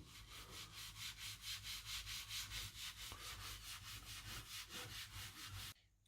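Rubbing a yellowed plastic Commodore computer case with bathroom cream cleanser makes a rhythmic back-and-forth scrubbing, about four strokes per second, steady and close, then stopping abruptly near the end.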